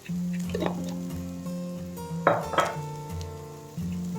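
Chicken curry masala sautéing in a pan, with occasional metal clinks and scrapes of a spatula over a soft sizzle, set against a steady tonal background.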